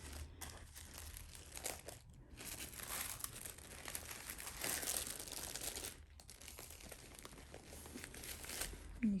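A Chanel Classic Flap bag is carefully unwrapped, its packaging crinkling and rustling in close, quiet, irregular bursts with brief pauses.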